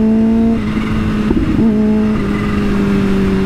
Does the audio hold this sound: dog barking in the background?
no